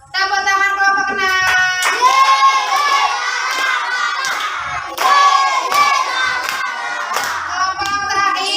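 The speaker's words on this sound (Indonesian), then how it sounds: "Tepuk tangan kelompok 6." Schoolchildren in a classroom clap for a group in a rhythmic patterned applause, with lively bursts of children's shouting and chanting voices over the steady claps, close and loud throughout.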